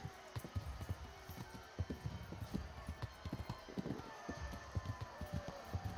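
Quick, rhythmic clip-clop of a horse's hooves at a trot in the video game Kingdom Come: Deliverance, close and continuous, with a light ambient background and no voices.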